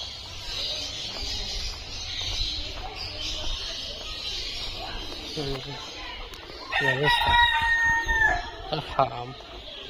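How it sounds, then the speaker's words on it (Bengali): A rooster on a farm that also keeps ostriches and pigeons crows loudly in the latter part, its drawn-out call rising above clucking fowl and a background of people talking. "মুরগির আওয়াজ না এটা, কি মুরগি দেখো, মুরগা"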